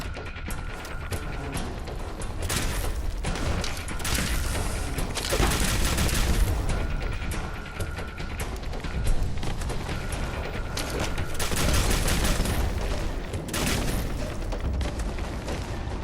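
Gamma gun firing in Fallout 4, repeated booming blasts and bursts in rapid succession, loud and continuous over dense game combat noise.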